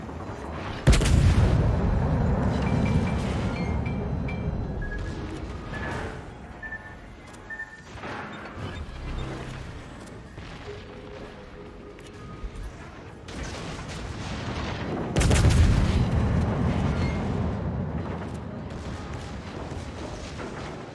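Battleship guns from the Yoshino firing in a naval combat game, two heavy booming salvos far apart with rumbling decay and quieter distant gunfire between, a voice briefly heard.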